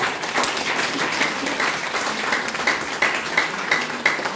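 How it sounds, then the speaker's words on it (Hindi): Enthusiastic audience applause at a network marketing women's meeting, a dense roar of clapping with sharp individual claps standing out, sustained for several seconds. "जोरदार ताली होना चाहिए"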